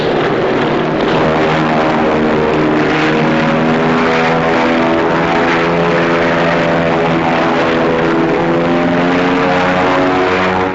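Propeller airplane engine droning steadily and loudly at close range, holding a constant pitch throughout without any talk.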